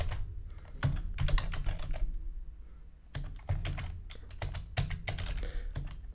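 Quick, steady keystrokes clatter on a computer keyboard as R code is typed, close and crisp, in two bursts of rapid tapping separated by a short pause.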